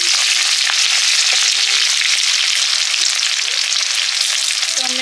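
Chopped onion hits hot oil already holding dried red chilli, whole cumin and whole garam masala, giving a loud, dense, steady sizzle close up and unbroken by talk.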